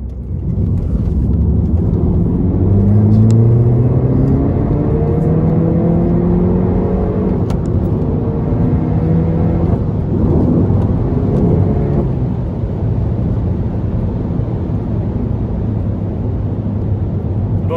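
A tuned F56 Mini Cooper S is driving, heard from the passenger seat as a constant low engine and road rumble, with pitch rising and falling as the car speeds up and changes gear.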